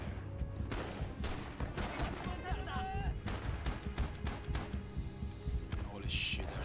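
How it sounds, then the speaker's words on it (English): Gunfire in the Rising Storm game crackles in sharp bursts and scattered shots over a steady low rumble, with a player talking throughout. "they're shooting at me"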